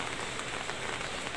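Rain falls steadily onto surfaces in a soft, even patter, a continuous moderately quiet hiss of drops with no voices.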